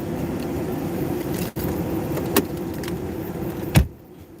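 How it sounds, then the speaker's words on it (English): A car door shuts with one solid thud near the end, following a steady engine-like hum and a brief click partway through, then the background drops to quiet. "I need to stop and close my car door"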